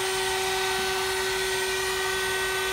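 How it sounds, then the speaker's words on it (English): A CNC router spindle runs at about 23,000 rpm, giving a steady, loud, high-pitched whine with a constant pitch and a broad airy hiss, heard alone without interruption. "So this is the noise level of my spindle"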